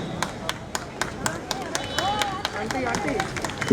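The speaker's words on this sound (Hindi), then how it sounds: "एक बार जोरदार ताली से उनका स्वागत करें।" A crowd at a BJP celebration event claps steadily in a quick, even rhythm, with crowd murmur and a voice running underneath.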